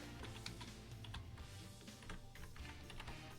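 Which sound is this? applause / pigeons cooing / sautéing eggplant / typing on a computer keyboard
typing on a computer keyboard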